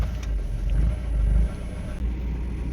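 Carbureted 1.8 engine of a VW Golf 3 idling after warm-up, a steady low rumble heard up close with slight unevenness and no talk over it.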